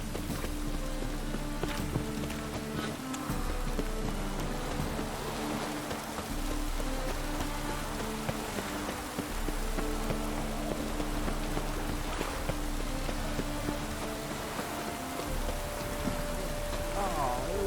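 Steady rainfall in the Witcher 3 game world on max graphics, a constant hiss of drops on surfaces with low ambient rumble and faint tonal game sounds beneath, no speech.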